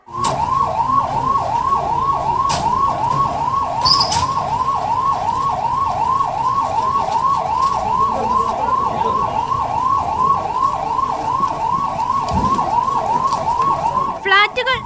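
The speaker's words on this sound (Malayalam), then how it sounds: "കൃത്യ നാലു മണിക്ക് സൈറൻ മുഴങ്ങി" Mock drill warning siren wailing in a steady rapid rising-and-falling cycle, loud and continuous for the whole stretch over faint background rumble, with no voices.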